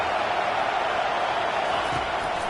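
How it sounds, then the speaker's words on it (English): A stadium crowd in the College Football 25 video game roars steadily on a third-down defensive stand, a dense, continuous wall of noise with no breaks, loud throughout. "Decibels rising as the crowd gets behind this defense on 3rd down."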